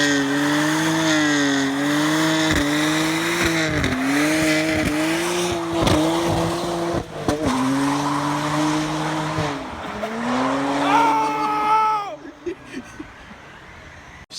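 A BMW 135 driven hard, engine revving through repeated rises and gear shifts with tires squealing and skidding, loud and close, ending in a final high squeal before dropping off.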